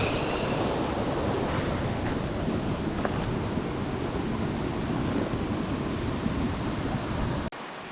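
A river in a Malaysian forest on Gunung Rajah after a flood rushes in a dense, steady roar, loud and close, cutting off abruptly near the end.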